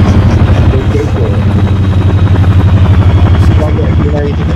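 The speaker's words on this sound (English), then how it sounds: "Definitely hear the helicopter, though." A loud helicopter in the video game Antistasi throbs with steady, rapid rotor chopping that dominates throughout, close and continuous.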